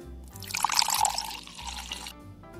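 Tea poured from a toy teapot into a small cup during a doll play scene, a soft continuous trickle of liquid lasting about two seconds at close range, with no talking.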